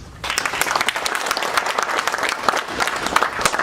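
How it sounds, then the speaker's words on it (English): A seminar audience bursts into a round of applause, dense clapping from many hands starting abruptly and staying fairly loud and steady to the end. "We're gonna start off with big round of applause"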